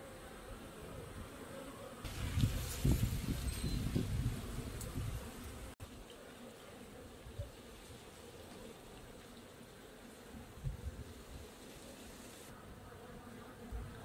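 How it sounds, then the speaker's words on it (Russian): Honeybees fly out on an October cleansing flight before winter, a soft continuous buzzing of many bees at a distance with a louder swell of nearby buzzing partway through. "сейчас в октябре вот так вот пчелки выходят на облет"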